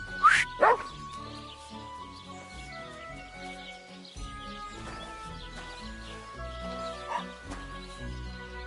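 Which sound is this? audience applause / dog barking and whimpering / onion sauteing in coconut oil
dog barking and whimpering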